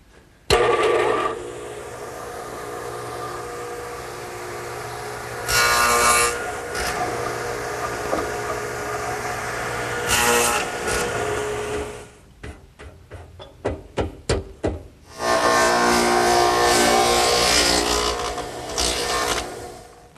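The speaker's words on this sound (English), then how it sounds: "the best way to remove the material to make the lap joint is to use the radial arm saw, which is set up with the stacked dado head cutter" A radial arm saw fitted with a stacked dado head cuts wood for a lap joint in a shop, the loud whining cuts coming in several long bursts with a run of short sharp chops in between.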